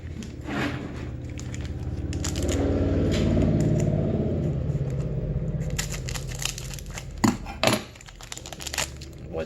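Foil-wrapped 1991 Leaf Series 1 baseball card packs crinkle and tear open close by, with sustained rustling of wrappers followed by sharper crackles and rips.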